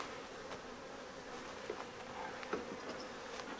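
Steady buzzing from honeybees around a hive, fairly quiet and continuous, with a few faint clicks and knocks on top.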